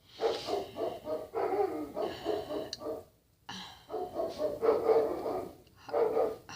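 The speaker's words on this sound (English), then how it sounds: "I thought the dogs were barking at a bird" Several dogs barking in repeated short bursts, fairly loud and close, with a brief quiet gap midway before the barking resumes.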